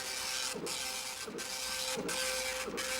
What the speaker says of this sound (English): that incredible noise there is the words being printed at the rate of 120 per second